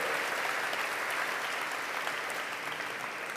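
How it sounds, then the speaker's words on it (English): An audience at the Brain Bar conference claps steadily after a Q&A with the Sophia humanoid robot. The applause is dense and even, somewhat distant, and continues for several seconds without talk. "Everyone, a round of applause."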